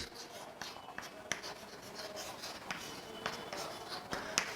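Writing on a board during a chemistry class, a series of short scratchy strokes and taps close by, fairly quiet, with faint room noise and no speech over it.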